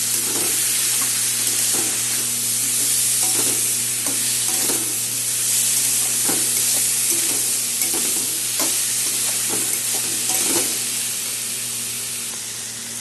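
Spice paste of ground spices and sugar fries loudly in a pan, a dense steady sizzle broken by regular scraping stirs, close and continuous, easing slightly toward the end.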